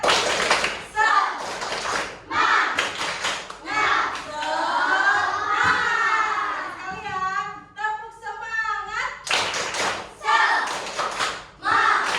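Children in a classroom perform a rhythmic clapping chant, tepuk semangat, with bursts of clapped beats alternating with sung and chanted voices, lively and close.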